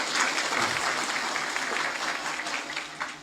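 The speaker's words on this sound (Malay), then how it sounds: "tepuk tangan untuk Pak Tengkin" Dense applause from a crowd at an Islamic gathering fills the whole stretch steadily, with a faint voice under it, fading slightly toward the end.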